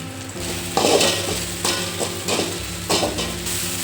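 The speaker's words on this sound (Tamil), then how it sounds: "இது கூட இந்த வெங்காயம் தக்காளி பொடியை போட்டு வதக்கிக்கிறேன்" Ginger, garlic, onion, tomato and spice powder sizzle in a pan for a fish maker gravy, with a ladle repeatedly scraping and stirring through the mix in several distinct strokes over a continuous frying hiss.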